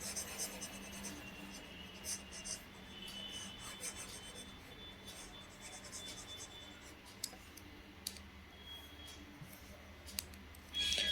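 Pen on paper writing out maths working by hand, a soft continuous scratching and rubbing with occasional small taps and clicks, faint and close.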